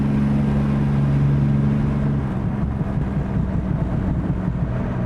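A 2020 Triumph Rocket 3 R motorcycle under acceleration while riding, a loud close engine roar that climbs in pitch and then shifts into a rougher throbbing note, with wind noise around it.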